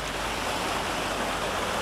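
Steady splashing surf as people run through shallow sea waves on an empty tropical beach in the Seychelles, a continuous close broadband wash without talk.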